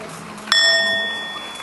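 A mindfulness bell gives a single soft half-strike at a Plum Village summer retreat. A bright metallic tone rings briefly and then fades slowly into quiet room tone.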